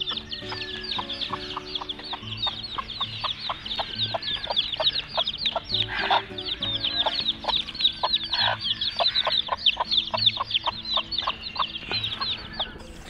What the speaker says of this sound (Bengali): আমাদের লাকি মুরগি যেটা 3টা বাচ্চা আছে আর বাচ্চাগুলোকে ছেড়ে দিছে